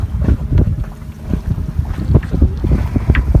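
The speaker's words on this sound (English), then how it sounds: "We got good strong wind here." Strong wind of roughly 8 to 9 knots buffets the microphone aboard a sailboat near St John Island, a loud, gusty rumble with rushing water mixed in and no voices.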